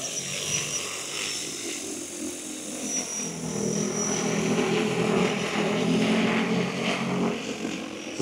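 An EAVision J100 agricultural drone lifts off and flies, its rotors making a steady, moderately loud droning buzz that swells slightly as it climbs.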